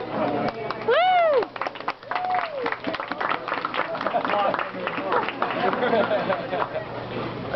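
Audience applauding and cheering as Ghost Adventures investigator Nick Groff enters a discussion and signing event; a dense wash of clapping fills the room with whoops and voices mixed in, steady throughout.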